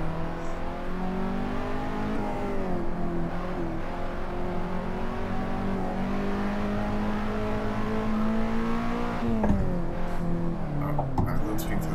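Race car engine in Assetto Corsa racing, a loud continuous drone with shifting pitch through gear changes and brief dips on upshifts, heard up close while someone talks quietly over it.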